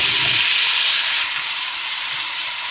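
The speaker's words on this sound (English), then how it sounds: "I'm gonna add the gandules" Pigeon peas hit hot achiote oil in a pan with a loud, bright sizzle and steamy hiss that fades slightly after the first second and carries on steadily.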